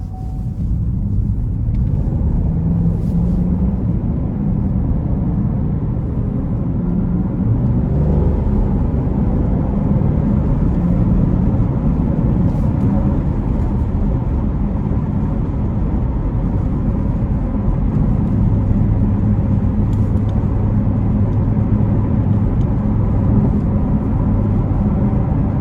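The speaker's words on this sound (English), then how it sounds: "So I'm putting the car back into sport mode now to get on the interstate." A 2021 Chevrolet Camaro 2SS convertible's engine in sport mode, a steady loud low rumble building as the car accelerates onto an interstate, continuous throughout with no talking.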